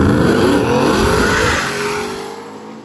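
A Ford truck making a drag racing pass roars loud and close at full throttle, engine revving hard, then the sound recedes and fades as it pulls away down the strip.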